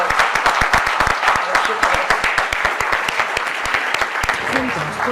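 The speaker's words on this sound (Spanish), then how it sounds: "Ahora el aplauso para Encarna" A conference audience applauds journalist Encarna Samitier with dense, steady clapping that is loud and sustained, then thins out and stops near the end.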